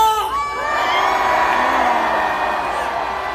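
A large crowd at a Korean political rally roars and cheers loudly, many voices shouting and whooping together in a sustained swell of noise.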